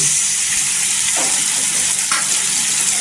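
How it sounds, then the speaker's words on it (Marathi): Fish curry gravy of coconut and onion with spices sautéing in hot oil, a steady close sizzle with a couple of brief stirring scrapes and no talking. "ग्रेव्ही टाकल्यानंतर आहे ना तेलावर छान असं परतून घ्यायचं"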